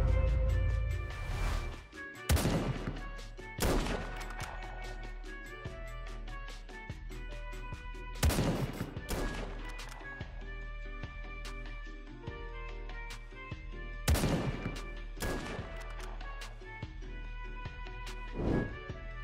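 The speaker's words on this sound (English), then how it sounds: "one shotgun jump is cool. Two in a row are amazing, but what can we even call three shotgun jump trick shots in a row?" Shotgun blasts in the Krunker.io video game, five sharp loud bangs spaced a few seconds apart, each with a short decay, over a steady low music bed.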